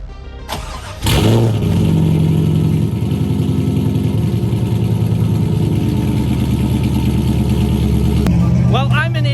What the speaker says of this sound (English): you guys will get a cold start on everything, which nothing is really impressive for cold starts besides the C5